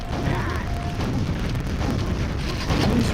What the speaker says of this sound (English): He got hit by like 2 rockets